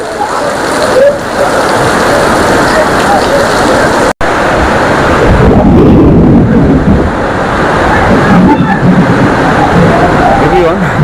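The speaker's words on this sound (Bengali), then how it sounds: "এই যে দেখতে পাচ্ছেন প্রচুর বৃষ্টি হচ্ছে" Heavy rain roars steadily and loudly at Sea Shell Park, Purbachal, Dhaka, a dense wash of noise with a brief cut partway through and a voice faintly under it.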